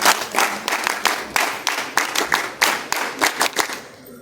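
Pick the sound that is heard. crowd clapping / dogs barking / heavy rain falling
crowd clapping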